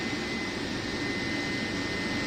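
An Indian Railways WAG electric locomotive, Moula Ali shed, runs with a steady droning roar and a thin high whine held constant throughout, close and loud.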